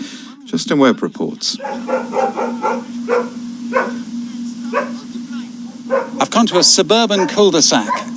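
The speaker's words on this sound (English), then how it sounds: "You can hear a dog barking there" A dog barks repeatedly from a suburban cul-de-sac near Pittsburgh, sharp yips and barks coming in bursts at a moderate distance while someone speaks over them.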